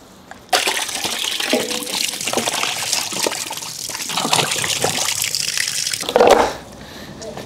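Running tap water splashes and gurgles as a whole Sunit lamb is rinsed under it, a steady close wash with brief louder splashes near the end before the flow stops.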